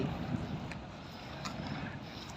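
Several boats churn and rumble on the water near Ko Loi park at dusk, a steady low engine drone with wind noise, fairly distant and continuous.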